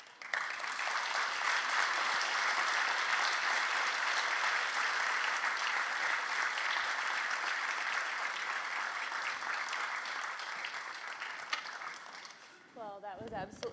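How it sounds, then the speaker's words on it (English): Sustained audience applause after a science medal lecture, a full, even roar of clapping for over ten seconds that fades toward the end as a voice begins speaking. "Can we give a big round of applause for Professor Levitt here?"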